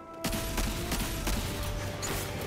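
The Malfeasance gun firing in the video game Destiny 2: a run of sharp, loud shots at an irregular quick pace over a dense, noisy game backdrop.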